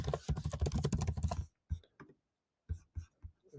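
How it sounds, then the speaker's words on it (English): Keystrokes on a computer keyboard while a note is typed into the ReshapeX app, a dense burst of rapid clicks followed by sparse scattered taps with quiet gaps between them, close and clear. "And then you can go in and start typing."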